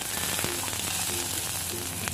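Shallots, garlic and ginger sauté in hot oil, giving a dense, even sizzle with faint crackles, close and unbroken for the whole moment.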